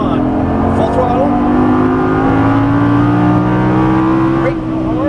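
Lamborghini Gallardo V10 engine at full throttle on a racing circuit, a loud, steady droning wail slowly climbing in pitch, close and dominant, with occasional brief voices over it.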